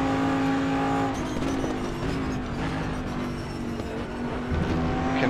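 A four-wheel-drive Audi IMSA race car runs at Road America in the RaceRoom racing game, its engine holding a steady droning tone with shifting pitch and tire noise, loud and continuous.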